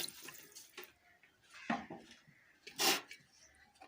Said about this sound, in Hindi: अब इसमें ये पानी जाएगा